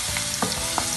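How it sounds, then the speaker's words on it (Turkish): Grated garlic fries in hot oil for a hamburger sauce, a brief, bright sizzle punctuated by a couple of quick stirring taps. "Ve bunu yağda şöyle bir döndüreceğim. Hafif kızaracak."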